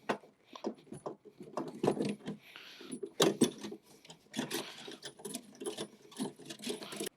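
Metal clinks, scrapes and rattles of a saddlebag being lined up and bolted back onto the rear of a 2014-or-later Harley-Davidson motorcycle, close and irregular, with no talking.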